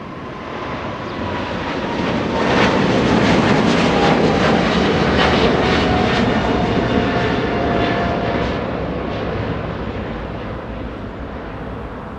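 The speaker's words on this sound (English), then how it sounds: "Eva Air Cargo getting a move on" An EVA Air Cargo freighter moves along at Los Angeles International Airport, its steady broadband jet-engine roar swelling slightly in the middle and then easing off, with no voices present.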